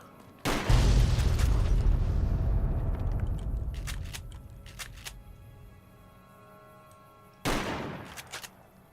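Shooting a truck in Fallout: New Vegas sets off a loud, booming explosion that rumbles and slowly fades, with scattered crackles and pops as debris settles, then a second sharp blast near the end.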